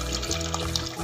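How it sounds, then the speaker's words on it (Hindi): A large mug of water poured into a pan of browned aloo matar qeema, giving a brief, steady splashing gush of liquid with no voices. "1 बड़ा मग्गा पानी का डालूंगी।"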